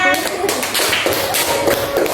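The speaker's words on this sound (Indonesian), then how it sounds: "tepuk tangan untuk Mas Haidar dan Mbak Rona" Classroom applause from fourth-grade students for two classmates after a group presentation, a brief burst of uneven clapping and tapping close by, with some voices mixed in.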